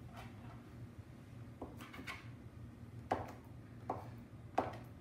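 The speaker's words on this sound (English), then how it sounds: "So we're going to chunk the butter." A knife cuts butter into chunks on a board in a home kitchen, giving a handful of soft, dull taps spaced about a second apart over a faint room hum.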